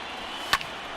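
A sharp single crack as the bat fouls off a pitch in MLB The Show 20, sudden and brief over a low steady crowd murmur.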